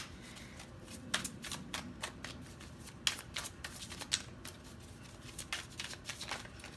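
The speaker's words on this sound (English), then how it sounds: "Let me finish shuffling and I'll complete my thoughts." Tarot cards are shuffled in a quiet room, giving a run of crisp riffling bursts and soft flicks in an irregular rhythm, close and clear with no talk.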